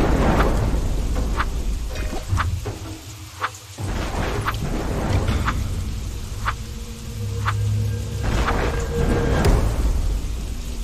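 Steady heavy rain hisses throughout in a Minecraft game, with deep rumbles of thunder and scattered cracking bursts rising and fading.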